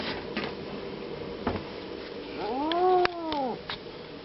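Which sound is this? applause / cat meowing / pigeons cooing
cat meowing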